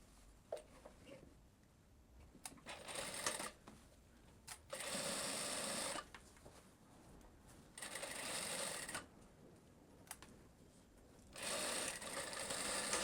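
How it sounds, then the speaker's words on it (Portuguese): A sewing machine fitted with a standard zipper foot stitches a zipper seam on a skirt in three bursts of fast, steady running, separated by quiet pauses with small clicks and handling noises. "E vou costurar."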